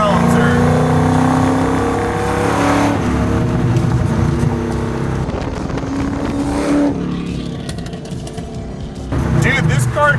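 Roadster Shop's Road Rage Camaro, a wide-bodied car with a 750 hp naturally aspirated engine, revs and rumbles loudly and close up, swelling and easing with throttle while people talk over it.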